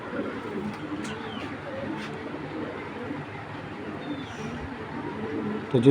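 Racer pigeons coo low and steadily nearby under a constant background hum, with a louder burst of noise at the very end.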